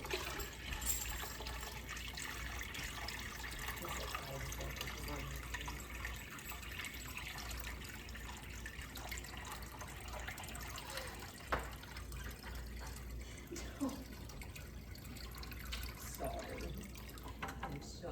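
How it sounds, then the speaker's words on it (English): Water trickles steadily into a home fish aquarium during a clean-up, a faint, continuous watery hiss with occasional soft splashes, quiet and sustained throughout. "I'm going to go ahead and start filling this back up."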